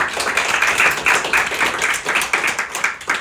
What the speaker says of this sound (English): round of applause for Kayla